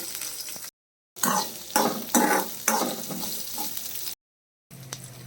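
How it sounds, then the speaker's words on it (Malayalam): Mustard seeds, garlic, curry leaves, ginger and green chilli sautéing in sesame oil for a mushroom pickle, with loud sizzling and repeated stirring scrapes in bursts broken by two short silent cuts. "ഇനി ഇതിലേക്ക് കടുക് വെളുത്തുള്ളി കറിവേപ്പില ഇഞ്ചി പച്ചമുളക് എന്നിവ ചേർത്ത് നന്നായി വഴറ്റി കൊടുക്കാം"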